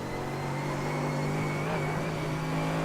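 A Mercedes race car in the iRacing simulator at Sebring, its engine holding a steady, loud drone with a constant whine and slight pitch drift throughout, no voices.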